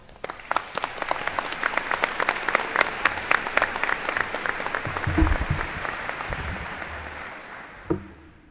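Commencement audience applauding as a speaker is welcomed to the podium, dense sustained clapping from a large crowd that swells midway and fades out near the end, with a brief thump as it dies away.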